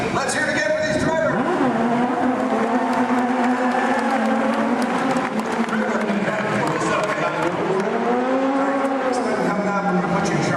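Stunt cars, including a reverse-driving car, roar and rev loudly at a Disney theme park stunt show, under continuous amplified announcer speech and crowd noise.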